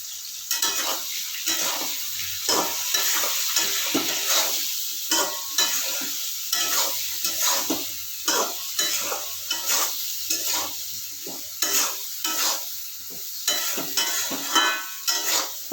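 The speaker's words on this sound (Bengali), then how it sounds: "একটু ভাজবো, একটু সামান্য ভাজি হলে হয়ে যাবে।" Hilsa fish and ash gourd frying in a pan with turmeric and green chili, a steady close sizzle broken by repeated scraping strokes of a spatula stirring, with no talk.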